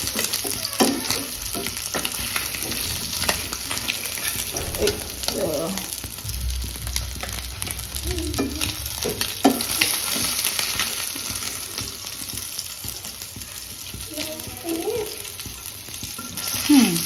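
Eggplant slices frying in hot oil make a continuous sizzle with spatters and spatula scrapes, while faint voices murmur in the background now and then.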